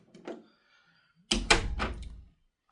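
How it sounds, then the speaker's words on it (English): A bedroom door is pushed shut at home, landing with a single solid thump and a short rattling settle; faint shuffling comes just before. "I have to keep this door shut now"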